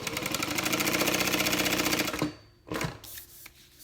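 A sewing machine runs steadily and close up, stitching a printed bag, a rapid even whir for about two seconds, then stops, followed by a couple of short bursts and quieter handling sounds.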